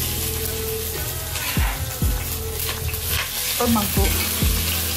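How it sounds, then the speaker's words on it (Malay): Garlic, shallots and dried shrimp sauté in a pan, giving a loud, close, steady sizzle with several quick scraping stirs, while a voice briefly speaks over it. "Dan next kita nak tumiskan kita punya bawang putih, bawang merah, udang kering."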